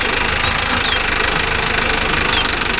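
A Mahindra Arjun Novo 605 S tractor engine runs steadily up close, a loud continuous diesel chug with a rapid knocking rhythm throughout.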